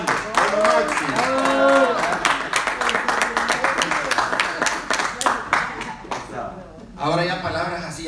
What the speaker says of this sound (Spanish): regálenle un aplauso